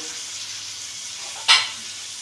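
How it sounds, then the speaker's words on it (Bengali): Pointed gourd sautéing with salt and turmeric in a pan gives a steady, soft frying hiss, with a brief louder sizzling burst partway through, close up and without speech. "এই দেখো এখন নুন হলুদ দিয়ে পটলটাকে ভালো করে সাঁতলে নেব।"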